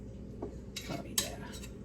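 A knife saws through a slice of chicken roulade on a plate, short scraping strokes and a sharp clink of metal against the dish, quiet and close.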